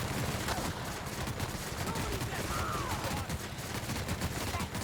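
Sniper rifle fire in The Outer Worlds video game, sharp repeated shots cracking over a constant roar of game combat noise, loud and busy for the whole stretch.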